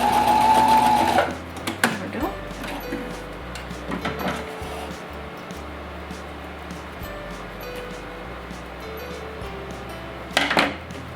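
Sewing machine stitching back and forth across the edge of a fitted fabric face mask, a loud burst at the start followed by quieter handling and short stitching runs, with another brief burst near the end.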